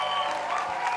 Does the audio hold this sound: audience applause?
yes